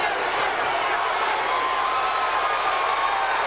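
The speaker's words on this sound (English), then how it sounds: "The crowd's encouraging him." A boxing arena crowd at a heavyweight fight cheers and roars in a dense, continuous wall of noise, with occasional whoops standing out above the sustained din.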